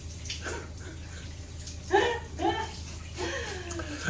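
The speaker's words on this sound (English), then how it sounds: "so Kathy's still in the shower" A shower runs in a wet room bathroom as a soft, steady spray of water, while people talk and laugh over it partway through.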